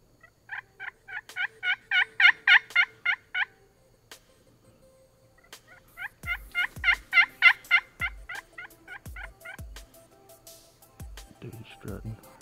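Wild turkey gobbling during a hunt in South Georgia: two long runs of rapid, loud rattling gobbles, each with a dozen or so pulses, with soft thumping sounds under the second run and quiet voices murmuring near the end.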